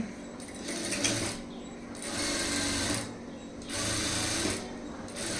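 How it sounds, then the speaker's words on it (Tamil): Sewing machine stitching a high neck blouse along the canvas, running in loud bursts of rapid stitching separated by short pauses, close and unaccompanied by talk. "கேன்வாஸ் ஒட்டி ஒரு தையல் போட்டுருங்க"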